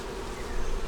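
Honeybees buzz in a dense, steady drone from an opened hive during a spring split with a three-year-old blue-marked queen, the hum close and continuous and swelling slightly toward the end.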